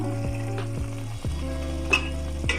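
Cleaned fish laid into a hot pan for fish pathiri, a steady sizzle with a few sharp bumps and clatters as pieces are set down, close and with no talking.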